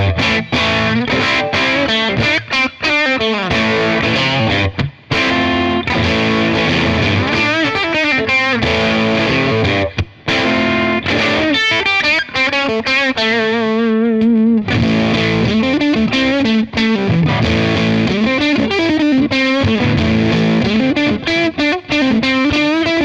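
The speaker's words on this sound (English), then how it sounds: "So now I'm just in a fuzz circuit." Heavily fuzzed electric guitar through a Beetronics Octahive octave fuzz pedal with the upper octave off, riffing loudly and continuously, thick and saturated, with brief gaps between phrases and no voices.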